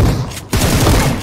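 Gunfire in the mobile battle royale game BGMI, a dense burst of shotgun blasts, a brief gap, then more loud close firing continuing to the end.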